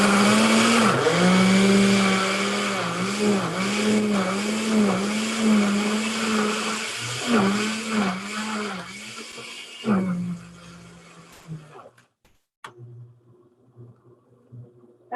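A blender churns newspaper and water in loud, close, wavering whirring pulses that rise and dip for about ten seconds, then cuts off into quiet with a few faint clicks.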